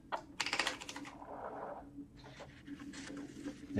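Keys struck on a 1953 Remington manual typewriter, a quick cluster of crisp clacks followed by a softer sustained rasp of the mechanism, then scattered lighter taps, all close and fairly quiet.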